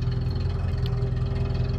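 A Datsun 720 4WD ute engine idles through its exhaust, a steady close rumbling drone with an even pulsing beat that holds constant throughout, no talk.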